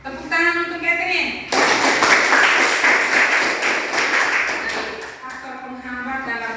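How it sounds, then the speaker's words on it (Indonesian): A classroom of students claps for a classmate named Catherine, a loud, busy burst of many hands lasting about four seconds, framed by a teacher talking just before and after. "Tepuk tangan untuk Catherine."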